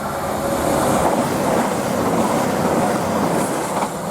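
A passenger train on the Reading to Manchester Piccadilly service passes close by at Kings Sutton on the Cherwell Valley line, a loud sustained roar with faint wheel clatter and a slight squeal, no voices.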